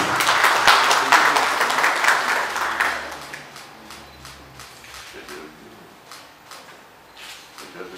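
A municipal council meeting room fills with applause for about three seconds, then the clapping thins to scattered claps and quiet room noise.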